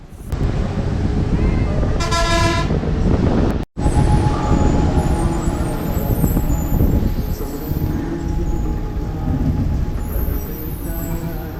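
A TNSTC bus on a narrow mountain road from Kattappana via Kambammettu to Cumbum sounds a sustained tonal horn blast early on. Loud engine and road rumble run throughout.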